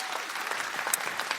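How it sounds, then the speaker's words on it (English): Audience at a 20th-anniversary celebration of a community centre gives a round of applause, a short burst of steady clapping from many hands throughout, fairly near and even in loudness. "Let's give them a round of applause"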